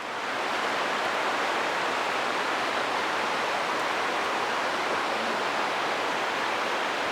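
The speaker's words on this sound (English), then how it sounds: "The river down below." A river rushes steadily below a wooded ridge, a loud, continuous broadband roar of flowing water with no breaks and no voices.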